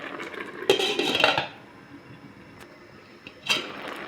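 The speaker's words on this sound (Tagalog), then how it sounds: "Takpan natin ulit para maluto yung kalabasa bago natin lagyan dahon" A metal lid clattering onto a cooking pot of squash simmering in coconut milk, a cluster of clanks followed by a lone clink later, close and fairly quiet.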